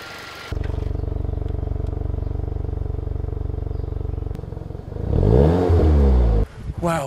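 A 2019 VW Golf GTI MK7.5, rebuilt after a wreck, cranks and fires up, then settles into a steady, close idle before a rising, throaty rev near the end.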